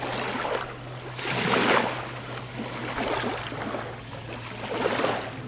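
Gentle waves lap the shore of Lake Toya on a clear day, a soft, close wash that swells and fades in slow surges, with a steady low hum underneath.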